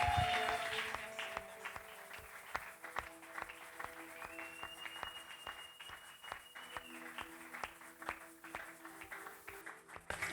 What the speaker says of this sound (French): Est-ce qu'on peut continuer à applaudir pour le Seigneur?